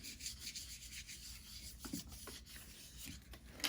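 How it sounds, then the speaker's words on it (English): Close rubbing of a backing paper sheet being pressed flat onto a small golf tee storage holder, a steady soft scratchy friction with a few slightly louder strokes near the end. "take that backing piece and put it on top of here and just rub it again, just to make sure everything's stuck down"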